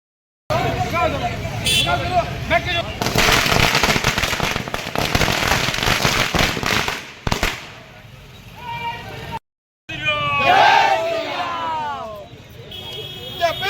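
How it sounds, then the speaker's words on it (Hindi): Dense crackling bursts of firecrackers and fireworks popping continuously amid a noisy crowd at a BJP victory celebration at Station Chowk in Mihijam, India, with loud shouting voices cutting in near the end. "देखिए स्टेशन चौक पर किस तरह से आतिशबाजी की जा रही है"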